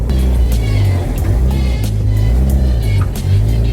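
A drift car's engine is already running and revving, a loud, close rumble that rises and falls in repeated throttle blips.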